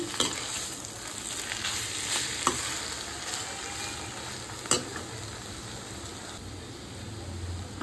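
Banana flower curry with garam masala is stirred in a pan, a soft steady sizzle broken by a few sharp scrapes of the spoon, close but fairly quiet.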